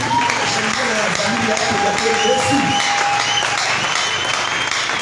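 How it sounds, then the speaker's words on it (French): A church congregation bursts into steady, sustained applause and acclaim for Jesus, a dense wash of clapping and cheering voices that stays loud and even throughout. "Est-ce que quelqu'un acclame consciencieusement Jésus?"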